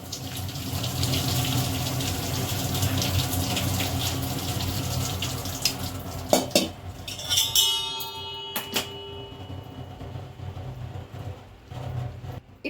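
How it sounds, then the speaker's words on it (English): Cooked pasta being strained over a kitchen sink: water pours and splashes in a steady, dense rush, then thins out into a few drips and clinks near the end. "I am straining the pasta."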